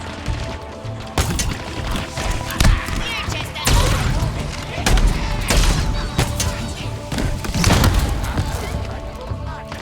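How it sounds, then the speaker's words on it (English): Heavy gunfire from Halo Infinite weapons booms and crashes in rapid succession, loud punchy shots and bursts layered with explosions, mixed under someone talking throughout. "The guns sound impactful, like it's actually packing a punch, that's actually dealing some damage."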